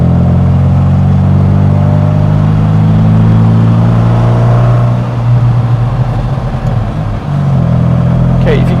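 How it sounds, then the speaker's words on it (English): An MGB GT engine fitted with a fast road cam runs with a loud, low, steady hum and a slight pulsing beat, heard close over its full length, with some voice mixed in beneath. "Now, you'll remember I said this had a fast road cam fitted, so if you listen to the engine"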